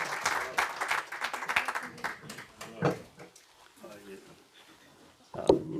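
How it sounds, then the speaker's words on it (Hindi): Audience at a gathering in Raynes Park clapping in short bursts, with speech and murmuring mixed in, fading and returning and ending on a louder burst. "तालियां"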